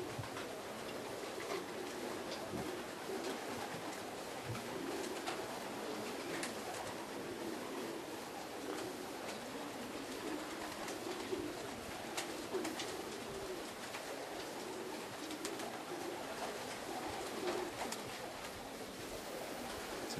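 Pigeons at a racing pigeon loft in Żary, Poland, cooing softly over a constant wash of wind and outdoor noise, the low calls faint and repeated throughout with no voices.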